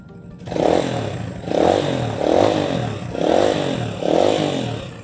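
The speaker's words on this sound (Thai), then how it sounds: "อ่าเสียงท่อก็จะประมาณนี้เลยนะฮะ" A Stallion SM 150 motorcycle from 2020/21 sits with its quiet exhaust running, its engine note swelling in five regular rev-like waves, close and fairly loud, with no speech.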